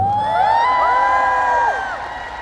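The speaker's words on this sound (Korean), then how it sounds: "박수 한번 쳐주세요" A crowd of fans at a year-end fan event cheers and shrieks with high, sustained whoops and screams, loud and close for about two seconds before fading slightly.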